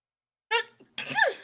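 A single person sneezes close to the mic during a tabletop role-playing game session: a short inhaled catch, a brief pause, then a sharp, breathy burst.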